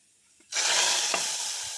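Mustard seeds hit hot coconut oil for tempering, a Kerala leaf curry in progress: a sudden loud, steady sizzle bursts in after half a second of quiet and holds, with one brief sharper crackle midway.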